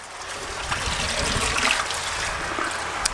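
Water spills over from one koi pond filter chamber into the final chamber, making a steady, close, splashing trickle that runs unbroken throughout.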